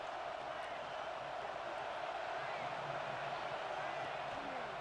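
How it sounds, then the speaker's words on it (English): Dense, steady stadium crowd roar from EA Sports College Football 26, a constant wash of noise as fans try to rally the defense for a red zone stop, with faint game sounds beneath. "And here comes the noise. This crowd is trying to inspire this defense to make a big red zone stop."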